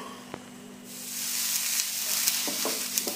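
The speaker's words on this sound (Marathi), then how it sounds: "तव्याला आपण सारखं पाणी मारून डोसे घालून घ्यायचं आहे" Chana dosa batter cooking on a hot tawa greased with ghee and butter, a soft sizzle swelling after the first second into a steady hiss, with a few light utensil taps and a faint hum, no talking.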